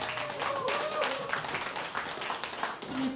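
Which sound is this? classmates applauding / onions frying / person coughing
classmates applauding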